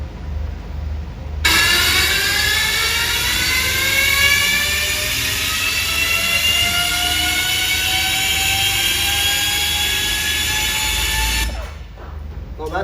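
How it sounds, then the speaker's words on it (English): Ultraviolette F77 electric motorcycle running, giving off a loud, steady turbine-like whine with rising tonal layers that sustains for about ten seconds before cutting off. "The sound you just heard is the actual sound of the F77 motorcycle."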